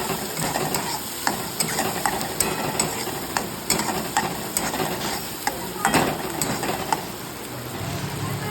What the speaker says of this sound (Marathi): यामध्ये आपण हळद ॲड करू हळद ॲड केल्यानंतर आपण याला चांगल्या प्रकारे स्टर करू कांदा अगदी लालसर होईपर्यंत आपण याला परतवून घेऊ